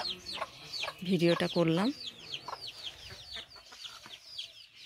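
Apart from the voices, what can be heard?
hens and chicks clucking on a farm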